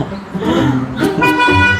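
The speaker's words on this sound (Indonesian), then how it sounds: "Tuh yang bilang ada klakson, ada." A car horn blares over busy traffic noise, a sustained honk near the end amid engine rumble and street sounds.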